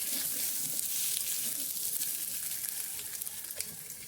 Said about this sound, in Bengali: আলুটাকেও মশলার সঙ্গে ভালো করে এভাবে মিশিয়ে নিচ্ছি।